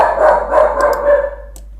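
Close and loud, a dog barks several times in quick succession, the barks running together before fading out near the end, with no talking.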